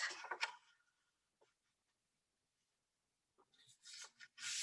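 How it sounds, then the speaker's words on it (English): Sheet of 12 by 12 scrapbook paper folded in half, close rustling and creasing swipes at the start and end with a quiet pause between. "you're going to fold it in half"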